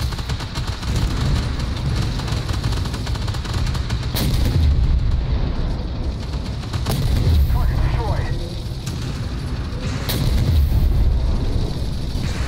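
Heavy tank cannon shots in the armored combat game Armored Warfare, a few loud booms spaced several seconds apart over a continuous low rumble of engine and battle noise, with a voice talking underneath.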